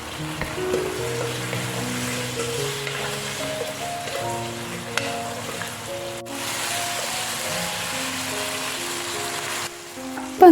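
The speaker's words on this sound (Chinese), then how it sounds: "就可加入已炸好的马铃薯块，将马铃薯与酱汁彻底的炒拌均匀" Fried potato chunks being stir-fried with a minced pork sauce in a home kitchen, giving a steady sizzle and frying hiss with soft stirring scrapes throughout, no talking.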